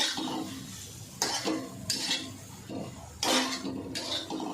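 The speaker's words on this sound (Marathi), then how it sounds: "आणि व्यवस्थित परतूया गॅस मी कमीच ठेवलं आहे जेणेकरून खाली लागायला नको" Green pea chutney being sautéed in a pan on low heat, with intermittent metallic spoon scrapes and clinks against the pan over a quiet background, in short separated bursts.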